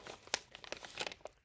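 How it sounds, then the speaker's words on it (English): A dog bites down on a dehydrated quail meat treat, giving several sharp, close crunches and crinkly cracks in quick, uneven succession, with one loud snap near the start. "And they have an extra crunch when she bites on it."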